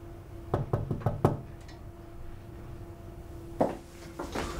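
Knocking on a locked door: a quick series of five sharp raps, a pause with a low steady hum, then a few more knocks, fairly close and clear with no talking over them.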